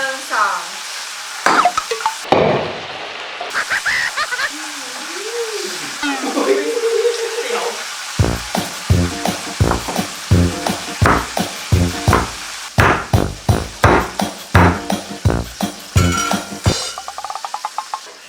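A whole chicken fries in hot oil with a steady sizzle, broken by repeated scraping and clattering as it is stirred.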